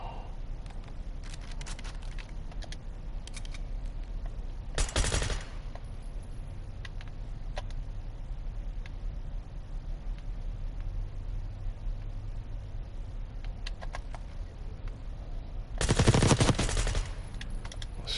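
Bursts of automatic gunfire from a weapon in Call of Duty Black Ops 6 multiplayer, two loud short volleys separated by quieter game ambience, with faint scattered clicks in between.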